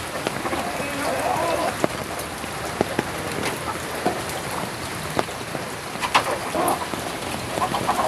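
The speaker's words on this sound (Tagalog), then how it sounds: "Ito mga ibon oh." Birds sit out a heavy downpour beside a flooded house, with faint calls and coos scattered through steady rain hiss and drips, and a few sharper drop knocks.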